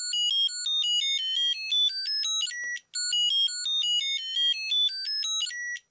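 A 1990s Sailor Moon toy voice box plays a shrill electronic melody of rapid beeping tones, thin and tinny, repeating twice with a short gap between phrases.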